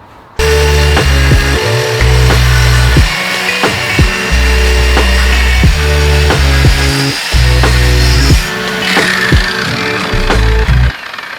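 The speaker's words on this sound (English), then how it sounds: "I'm not trying to cut all the way through it, I just want to score it and know that it's straight" A power saw scores a shallow guide line in plywood, motor whining in repeated bursts with pauses between passes, loud and close, no talking.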